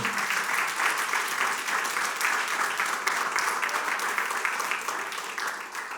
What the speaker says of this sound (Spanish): El aplauso a Dios, hermano.